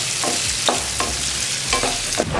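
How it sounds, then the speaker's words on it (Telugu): Finely chopped medium onions fry in oil over a medium flame with a steady sizzle, while a spatula scrapes and stirs the pan in quick repeated strokes close by. "ఉల్లిపాయలు వేసుకొని కాసేపు ఉల్లిపాయలు లైట్ గోల్డెన్ కలర్ వచ్చే వరకు వేయించుకుందాం."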